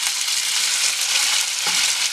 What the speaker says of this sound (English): It's fried rice.